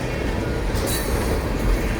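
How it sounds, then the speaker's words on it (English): A big Union Pacific freight train rolls past close by. Dense, continuous rumble carries faint wheel squeal and no talk. "Let's see how long these big trains, big Union Pacific trains are"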